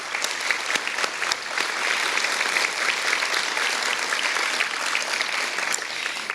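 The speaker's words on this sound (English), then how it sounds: "let's give them a round of applause" Audience at a youth health awards ceremony gives a sustained round of applause, dense and steady clapping throughout with no talk over it.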